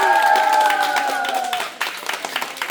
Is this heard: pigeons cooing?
no